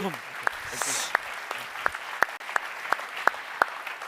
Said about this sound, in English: please, a big applause to everyone who has been participating in the discussion